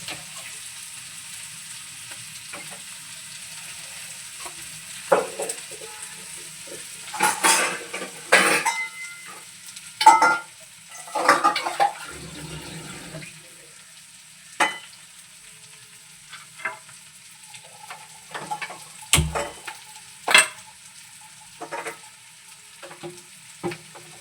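Prawn masala sizzles softly in a frying pan under scattered bursts of stirring, with scraping and clinks of a utensil against the pan, no talk.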